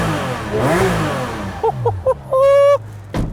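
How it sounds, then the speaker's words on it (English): A Porsche GT3 RS 4.0 engine revs in a few short bursts, then holds one longer high-pitched rev before dropping away, fairly loud and close with no talking. "Just a good exhaust, a phenomenally organic engine"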